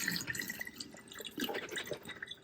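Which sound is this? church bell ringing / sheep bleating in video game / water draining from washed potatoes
water draining from washed potatoes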